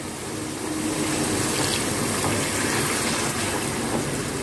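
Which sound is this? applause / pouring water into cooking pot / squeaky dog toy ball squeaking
pouring water into cooking pot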